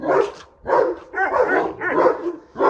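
Dogs bark loudly and close by in a rapid, overlapping series of barks, with a few yips mixed in.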